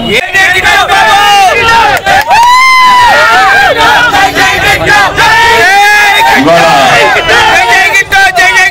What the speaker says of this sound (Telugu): చప్పట్లు కొట్టబోతుంది.